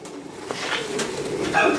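A breeder pigeon gives a soft, low coo that swells toward the end of a short stretch, heard close and alone over faint room noise.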